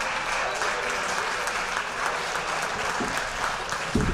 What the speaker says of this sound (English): Thank you for keeping the applause going